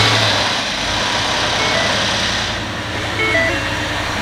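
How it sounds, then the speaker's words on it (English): Supercharged 2018 Ford F150 V8 with a Gen 5 3.0 Whipple supercharger running at idle: a loud, close, steady engine rumble with a faint supercharger whine, holding an even tone throughout with no talking. "You can hear that supercharger"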